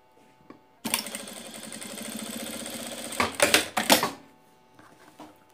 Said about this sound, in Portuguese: agora eu vou abrir o meu zíper e vou virar pro lado direito pra gente rebater essa costura aqui do outro lado